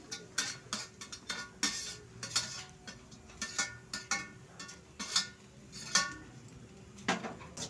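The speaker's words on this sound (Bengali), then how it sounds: "তারপর আমি এখানে একটু ভালো করে নেড়ে নেব, যাতে নারকেল কোড়াটা একটু শুকনো শুকনো হয়ে যায়" Grated coconut is stirred in a wok to dry it out, with a spatula scraping and tapping the metal pan in quick, irregular strokes, close and clear with no talking.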